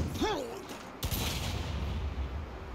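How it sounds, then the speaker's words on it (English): A grenade blast in the Saints Row reboot game: a sharp explosive crack partway through with a rumbling tail, over game sounds and a rising and falling tone, with no talk. "Instead, I'll blow this guy up with a grenade."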